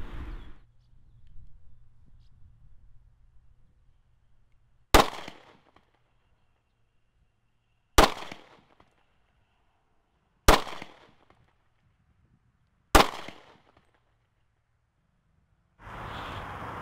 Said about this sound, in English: we're going to back up a little bit and shoot at some distance and see how it comes out